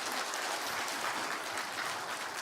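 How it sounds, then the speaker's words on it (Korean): Audience applause at the close of a lecture on managing chronic kidney disease, a steady dense wash of clapping filling the whole stretch at even loudness with no voices. "오늘 강의 진행해 주신 권효경 과장님께 큰 박수 한 번 더 부탁드립니다."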